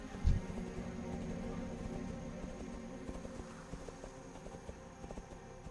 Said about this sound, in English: Go for a little horse ride